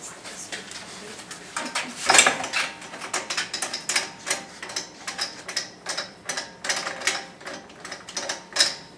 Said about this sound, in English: you just let your bike drop on the ground slightly